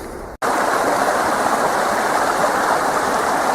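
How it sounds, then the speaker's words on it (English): A very small creek fed by marshland flows under a road, a steady broadband rush of running water after a brief gap at the start, close and continuous with no talk. "I'm here at a very little creek that goes under the road."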